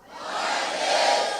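A church congregation lets out a loud collective shout, a single swelling roar of many voices rising and holding for about a second and a half.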